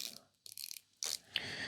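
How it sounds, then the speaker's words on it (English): A Wiha quarter-inch drive reversible 72-tooth ratchet gives a few quick, fine clicking bursts close up, short rattling runs separated by brief pauses in a quiet room. "you get your quarter drive ratchet that is reversible"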